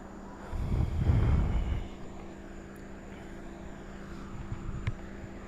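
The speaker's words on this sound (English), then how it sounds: "Still hearing helicopters above." Helicopters flying overhead during a police manhunt near Longwood Gardens: a brief swell of rotor and engine rumble passes, then fades to a faint steady hum with no talking.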